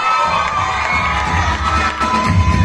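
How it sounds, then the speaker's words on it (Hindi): Children cheer and shout loudly at a school annual day event, a dense continuous crowd roar of young voices filling the whole moment with no clear speech over it. "जोरदार उसके लिए तालियां बजाइए"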